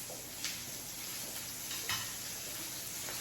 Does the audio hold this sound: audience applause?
no